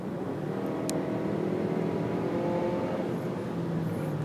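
A 2018 Volvo XC60 AWD SUV's engine hums steadily as it accelerates from 60 mph, a moderate continuous drone with road noise and no talking.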